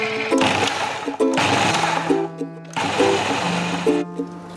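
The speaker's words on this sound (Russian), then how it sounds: "измельчим в режиме пульсации до образования" A KitchenAid food processor motor whirs in three loud, short pulses, separated by brief pauses, as it grinds mustard seeds and breadcrumbs.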